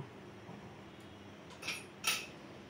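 A lid set down onto a cooking pot of bones left to boil, giving two short metallic clinks close by in an otherwise quiet kitchen.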